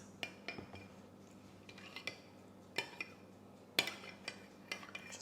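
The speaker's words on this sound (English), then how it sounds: "Just going to stir it." Spoon clinking against a glass or bowl while lemon juice is stirred into milk to make buttermilk, a series of sharp close metallic taps at an irregular pace over a quiet background.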